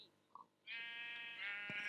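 A sheep bleating in the Minecraft video game, one long wavering nasal bleat lasting over a second, close and clear after a brief quiet start.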